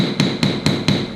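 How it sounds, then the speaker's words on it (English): Four evenly spaced hammer blows ring on metal at a jewellery bench, each strike sharp and close with a bright metallic ring, landing roughly every quarter second with no voices. "We want the hammer weight to be landing and doing the work."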